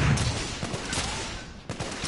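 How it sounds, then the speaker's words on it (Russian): Gunfire in the PS4 game The Order: 1886, a loud, dense volley of shots with sharper cracks near the start and again near the end, and no talk. "Меня обстреливают"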